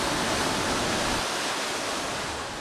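Ocean waves break in the surf zone along a sandy beach, a dense continuous roar of surf and turbulent water, loud and steady throughout with no voices.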